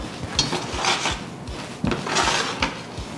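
Metal cookware clatters and scrapes on the glass surface of an induction cooktop as a pan is set back down, a series of close, rubbing knocks and rattles.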